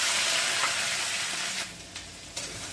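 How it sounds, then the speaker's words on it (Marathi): Finely chopped onions sauté in hot oil with cumin seeds and bay leaves, a dense bright sizzle that is strong at first, then eases and thins out, broken by a few soft stirring knocks. "आणि ते छान परतून घेणार आहे"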